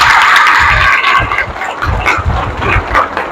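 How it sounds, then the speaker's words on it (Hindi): A church congregation applauds and cheers loudly, a dense sustained wash of clapping and shouting voices from a large crowd that swells and dips but never stops. "इस बात के लिए जोरदार तालियां"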